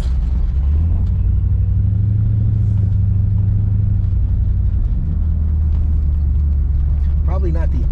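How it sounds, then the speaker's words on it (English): A Corvette rolls along a detoured gravel road, giving a steady, loud low engine and tyre rumble that runs unbroken throughout, with a voice talking over it. "Probably not the ideal roads to be driving a Corvette in, especially they detoured on that gravel road"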